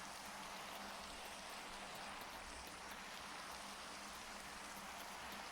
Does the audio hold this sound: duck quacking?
no